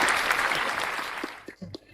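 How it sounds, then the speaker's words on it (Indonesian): A studio audience gives a short burst of applause and cheering, dense and loud at first, then thinning out as a few voices and scattered claps come through near the end. "tepuk tangan guys"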